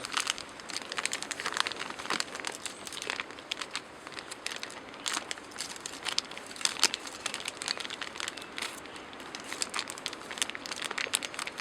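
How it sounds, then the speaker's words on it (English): Plastic film crinkles and crackles steadily as it is wrapped snugly around a moist plant graft on a New Zealand permaculture homestead in winter, a close, continuous rustling with frequent sharp crackles and no voices. "then that gets wrapped up with a bit of plastic"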